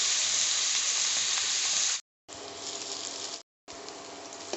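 Potatoes fry in a pan with a loud, steady hissing sizzle that cuts out briefly twice before resuming.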